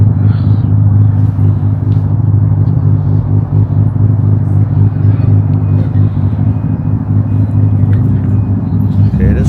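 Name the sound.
car with HKS exhaust driving past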